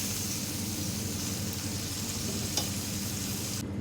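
Potato and onion pieces fry gently in oil over low heat, producing a steady close sizzle with a continuous bubbling crackle and one small clink near the end.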